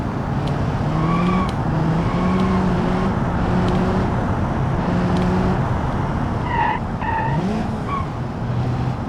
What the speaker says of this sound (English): This is a 2-liter engine.